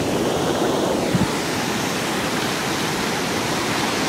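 Ocean surf at Miramar Beach in Destin, Florida, around seven in the evening, a steady broadband roar of breaking waves mixed with wind, loud and continuous with no voices.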